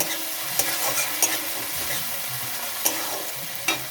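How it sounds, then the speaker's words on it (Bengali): Spices and ginger paste are stirred and fried in a pan: steady sizzling with several sharp spoon scrapes and knocks against the pan spaced through, close and alone without talk. "জিরের গুঁড়ো, ধনের গুঁড়ো, আদা বাটা দিয়ে এবার আমি ভালো করে নাড়াচাড়া করে নেব।"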